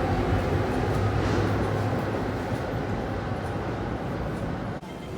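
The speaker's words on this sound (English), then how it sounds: "another A train just arrived" A Tung Chung line MTR train pulls into Tung Chung Station in Hong Kong, a loud, steady low rumble and hum of the arriving train filling the platform, with no voices, dropping off briefly near the end.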